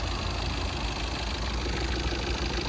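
A 2019 Tata Nexon XM diesel engine idles in a steady, unbroken low drone, close by, with no other sounds on top.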